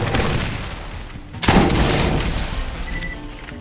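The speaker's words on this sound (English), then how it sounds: "Rockets are too slow." A rocket launcher fires in Borderlands with one sudden loud blast midway, followed by a rumbling, decaying wash of explosion noise over continuous game ambience.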